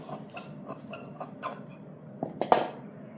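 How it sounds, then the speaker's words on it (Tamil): Scissors cut through blouse fabric with lining in a run of quiet, irregular snips and clicks, ending in a slightly louder cluster of cuts. "இப்போது பேக்கை நம்ம கட் பண்ணி எடுத்துக்கணும்"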